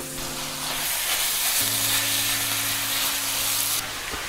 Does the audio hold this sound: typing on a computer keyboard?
no